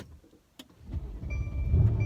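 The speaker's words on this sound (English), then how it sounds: "So let's start the engine." A Mercedes C63 S engine is started, with a click and a brief whir before the motor catches and builds into a rising, close, throaty rumble.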